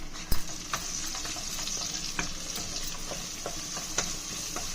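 Ginger garlic paste fries with onions in a pan, a steady close sizzle with occasional pops and spoon scrapes, a sharp clack near the start, and no talk.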